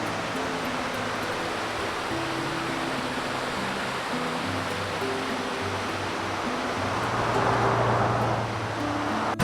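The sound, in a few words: flowing creek water in the Great Smoky Mountains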